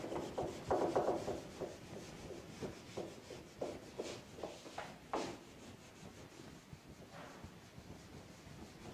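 Someone rubs writing off a classroom board in a series of quick, scratchy strokes, loud at first and fading toward the end.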